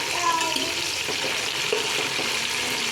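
Mint and green chillies sizzle in a pan for chicken curry, a steady, dense hiss that runs evenly throughout.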